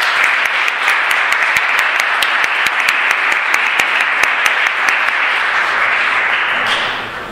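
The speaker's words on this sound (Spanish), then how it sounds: "le damos un súper aplauso" Audience applause fills a presentation hall at an ENTI event, dense steady clapping from many hands sustained for several seconds before tapering off at the end.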